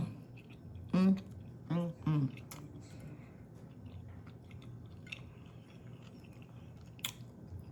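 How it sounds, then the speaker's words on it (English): Close biting and chewing of a chicken parmesan burger, with a few short voiced hums early on and soft mouth sounds continuing afterward. "Now let's go in for the taste test."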